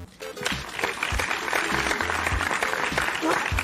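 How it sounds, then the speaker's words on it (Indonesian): A crowd applauds in a sustained, fairly loud burst of clapping, with some voices and other sounds mixed in underneath as it continues. "Penonton harap tepuk tangan."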